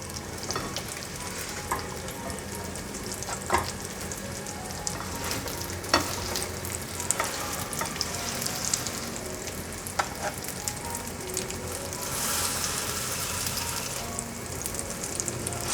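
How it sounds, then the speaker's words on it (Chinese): Buns made with white radish and shiitake pan-fry under steady sizzling, with occasional sharp clicks and scrapes as they are pressed and handled in the pan. The sizzle swells louder near the end, and nobody speaks. "蒸汽压出来之后，再继续让它煎"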